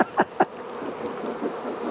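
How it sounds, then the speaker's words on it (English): Honey bee foragers returning to their hives give a faint, steady insect buzz, with a couple of brief close fly-by buzzes near the start before the hum settles into a low, continuous drone. "They're starting to return. The foragers are returning."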